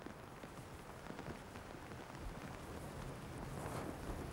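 Rain shower falling outdoors among petroglyphs on a hike in French Polynesia, a steady, faint patter of drops with some wind noise throughout.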